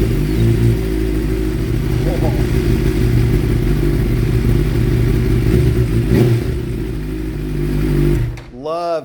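Suzuki Katana motorcycle with an M4 slip-on exhaust and the airbox restrictor removed, its engine idling loud and steady with a deep rumble throughout, then a brief blip and cutoff near the end.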